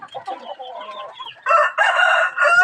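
Backyard pet chickens cluck softly in a murmuring cluster, then a rooster lets out a loud, strained crow close by that swells and holds to the end.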